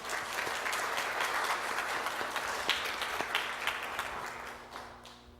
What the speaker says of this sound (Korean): 영광의 박수를 올려드립시다.